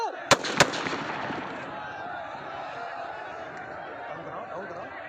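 Two sharp, loud gunshot-like bangs from a police riot control drill go off in quick succession at the start, then fade into a continuous noisy crowd-like wash.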